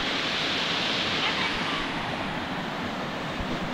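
A waterfall in a stream pours in a constant broad rushing wash, steady and fairly loud, with no distinct breaks.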